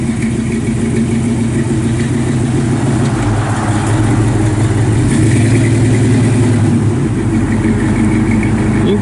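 A 1959 GMC Apache 3100 shortbox pickup with an aftermarket cam idles loudly and close, its lumpy, pulsing exhaust loping unevenly with a slight rise in revs midway.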